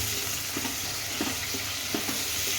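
Salted vegetables, including ivy gourd, raw mango and potato, frying in a pan, a quiet continuous sizzle with faint scattered crackles and soft stirring ticks, no talk.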